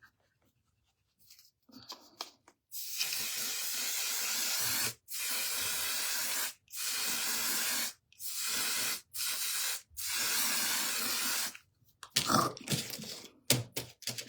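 Waterproof makeup setting spray hisses from a pump bottle in several long, loud, steady bursts separated by short pauses, close to the listener, with a few faint rustles around them.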